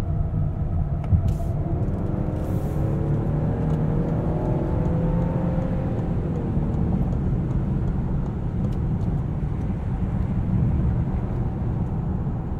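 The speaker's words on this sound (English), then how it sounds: "Just cruising here on the highway" A 2020 Lincoln Aviator Reserve AWD cruises on the highway, giving a steady low road and engine rumble inside a quiet cabin, with a faint rising whir partway through.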